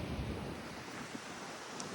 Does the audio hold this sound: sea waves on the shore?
yes